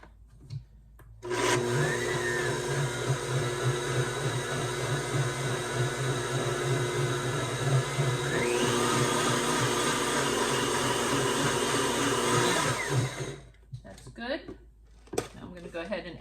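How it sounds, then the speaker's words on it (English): A blender whirs loudly and steadily for about twelve seconds while blending dry Herbalife shake ingredients. Its pitch rises partway through, then the motor stops, leaving light clatter. "Let's go ahead and give this a blend."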